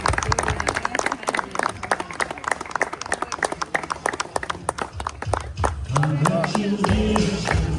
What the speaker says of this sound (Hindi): जब ये केक काटते हैं आप लोग तालियां बजाकर खुशी जाहिर कर सकते हैं।